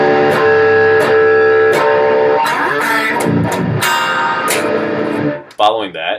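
A slowed-down, heavily distorted electric guitar riff from a technical death metal song rings out in dense, sustained chords with sharp accents. It plays loud and upfront before cutting off abruptly at the end.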